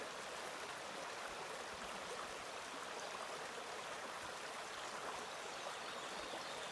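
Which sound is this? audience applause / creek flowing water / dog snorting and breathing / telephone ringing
creek flowing water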